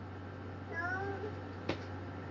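A human voice imitates a cat with a single short, rising-falling meow, quiet and close, followed by a sharp click.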